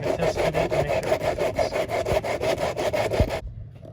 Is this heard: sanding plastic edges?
yes